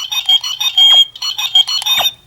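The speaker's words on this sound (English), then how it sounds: "It's just beeping sounds." Electronic beeps and chirps from a Power Rangers Super Megaforce Legendary Morpher toy, a loud rapid run of bright tonal bursts with short gaps and a quick descending blip near the end.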